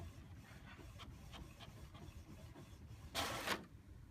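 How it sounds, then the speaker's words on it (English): An inkjet printer printing onto photo gloss paper, giving faint, regular mechanical ticks and shuffles, then a brief louder rasping whir near the end. "So this is going to take a lot of time to print all of these out."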